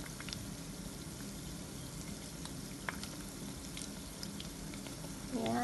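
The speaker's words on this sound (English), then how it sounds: "You have to fry it." Chicken spring rolls in pastry sheets fry in hot oil with a soft, steady sizzle and scattered small pops, fairly faint and close, with a brief higher sound at the very end.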